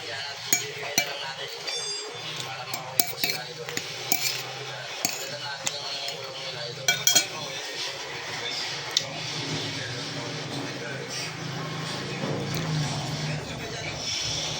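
Cutlery and dishes clinking at a home lunch of ground-meat omelette: frequent light spoon-and-plate chinks and scrapes scattered throughout, close and moderately loud, with quiet talk underneath.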